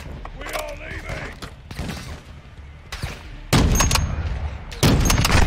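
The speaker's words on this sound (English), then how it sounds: "It's like a 50 cal sort of sniper rifle" A .50 cal sniper rifle in Modern Warfare 2 fires two loud, heavy booms a little over a second apart, after quieter mechanical clicks and clatter, with someone speaking faintly.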